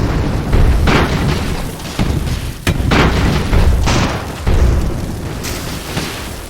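Repeated booming bomb blasts from the airship strategy game Airships: Conquer the Skies, several loud explosions in quick succession with rumbling decay and no talk.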